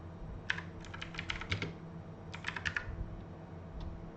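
Typing on a computer keyboard while entering a Flutter run command, two quick bursts of crisp key clicks separated by a short pause, close and clear with no talking.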